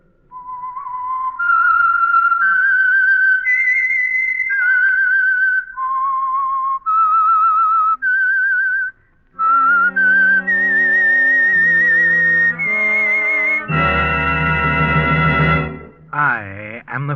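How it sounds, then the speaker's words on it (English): The signature whistle of the old-time radio mystery show The Whistler, a clear, loud melodic whistled tune carried alone, with several rising and falling phrases and a brief orchestral swell near the end. "That whistle is your signal for the Signal Oil Program,"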